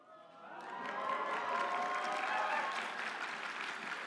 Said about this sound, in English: enough applause for me